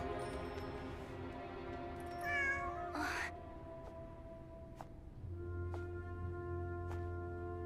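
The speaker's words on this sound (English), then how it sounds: "Oh, it's a cat." A cat in the Genshin Impact video game lets out a short, clear meow partway through, set against a steady bed of soft game music with no talking.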